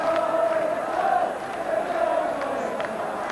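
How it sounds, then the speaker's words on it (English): A large, loud football crowd roars in a steady, distant wash at Goodison Park, the stadium of Everton, during a 1995 testimonial match against Celtic, with faint whistles and calls rising above it. "it has a loud and large crowd in it"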